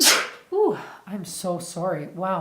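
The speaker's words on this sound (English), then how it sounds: "I don't think I've ever sneezed while I'm doing a reading." A single loud, sharp sneeze from a man opens the moment during a spoken reading, followed right away by his apologetic speech.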